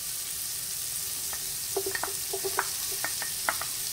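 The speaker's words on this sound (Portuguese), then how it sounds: "o alho, vamos fritar esses ingredientes, vamos dourá-los" Garlic and leek fry in hot oil in a pan, giving a steady sizzling hiss with small pops and crackles scattered through, close and fairly quiet, with no talk.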